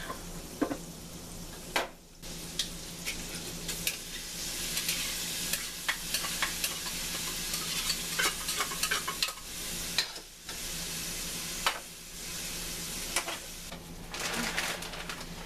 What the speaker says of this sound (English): So now I'm going to add my tuna.